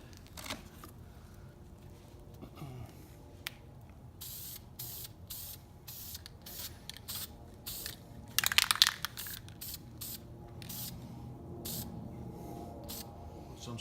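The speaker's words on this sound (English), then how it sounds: "Put some spray glue on these trees. I'm using Super 77." Super 77 spray glue is sprayed onto model trees in short hissing bursts, with a denser cluster of sprays midway through. Quiet handling clicks sound between the bursts.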